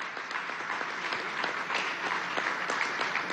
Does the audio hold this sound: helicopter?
no